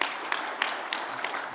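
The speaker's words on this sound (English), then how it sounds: "You're getting applause from the Minister." Brief applause at an Economist government roundtable conference, a short burst of scattered, distinct hand claps over a steady wash of clapping, heard on its own without speech.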